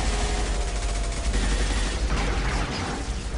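Dense, continuous gunfire in Mass Effect 2, a constant loud wash of rapid shots and battle noise with no pauses.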